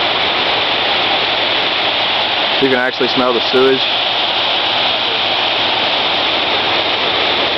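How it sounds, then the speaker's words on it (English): Floodwater rushing at the edge of Frogtown, a steady broadband roar of moving water throughout, with someone speaking briefly over it midway. "At the edge of Frogtown, you can see the water's starting to really come down."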